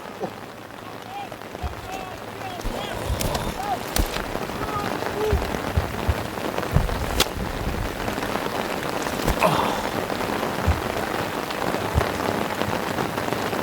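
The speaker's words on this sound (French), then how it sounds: "Il y a quelques éclairs, non pas des éclairs, des tonnerres qu'on entend là." Heavy rain pours steadily over an outdoor under-15 youth soccer match, a constant dense patter with a few sharper drop hits and faint low rumbles beneath, fairly distant and even throughout.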